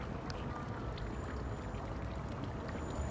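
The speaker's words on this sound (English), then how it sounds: "we're beside a fountain, if you guys can hear trickling water" Water trickling from an outdoor fountain, a steady, soft broadband wash without pauses, fairly close and continuous.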